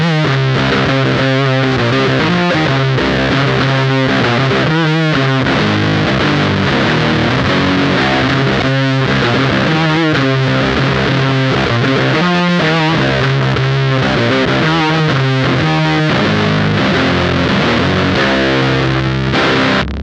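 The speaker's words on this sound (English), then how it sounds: "we have that initial dry fuzz guitar sound that is not octave 1 or octave 2" Electric guitar with a dry fuzz tone through a Beetronics Whoctahell pedal, loud and saturated, playing a continuous riff of chugging notes and chords up close, with no voice over it.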